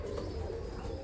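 Birmingham Roller pigeons give soft, low, throaty coos against a steady background hum of a loft, brief and close.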